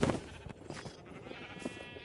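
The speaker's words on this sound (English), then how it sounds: "that'll give us another blue or yellow sheep" Sheep in the video game Minecraft bleat in a short wavering burst, followed by a couple of fainter bleats under low game background noise.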